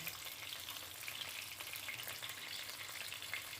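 Chopped onions fry in oil in a pan, giving a steady, even sizzle with faint crackles. The sound is close and continuous, with no voices.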